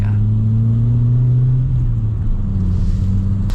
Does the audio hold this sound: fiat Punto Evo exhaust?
yes